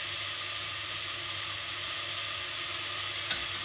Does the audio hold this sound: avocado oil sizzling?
yes